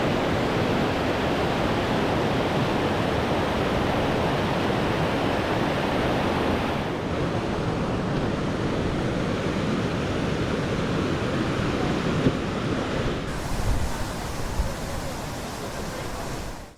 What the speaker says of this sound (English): we were faced with our first major obstacle, a raging river